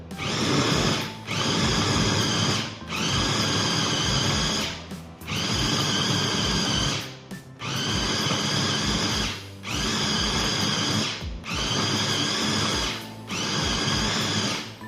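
A loud electric meat grinder minces pork into coarse paste in a home kitchen, running in steady bursts of whirring motor noise with brief pauses between, close and dominant.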